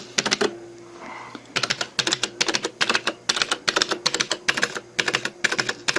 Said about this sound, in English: Some of these controls, some of these buttons sound alright, but see that?